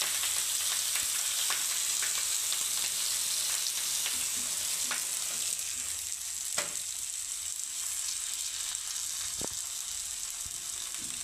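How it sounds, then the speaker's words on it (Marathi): Leftover khichdi thalipeeth sizzles steadily on a hot griddle over a medium flame, its oil crackling in a continuous bright hiss with a few sharp pops. No one speaks. "व्यवस्थित असा तव्यावर थालीपीठ आपल्याला टाकून घ्यायचं आहे"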